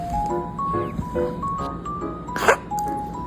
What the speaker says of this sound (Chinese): 打喷嚏